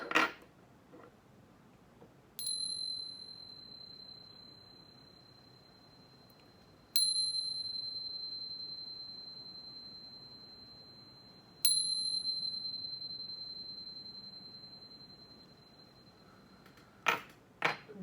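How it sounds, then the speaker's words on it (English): A clear bright chime rings three times at slow, even intervals, each strike sustaining a long pure ringing tone that fades gradually in a quiet room, with a few soft taps at the start and end. "But first, let's chime."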